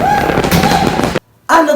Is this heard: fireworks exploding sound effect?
yes